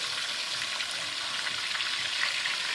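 Chicken pieces for Nashville hot chicken fry in hot oil with a dense, steady crackling sizzle, close and even throughout, and no voices over it.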